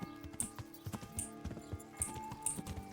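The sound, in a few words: horse hooves clip-clopping in a video game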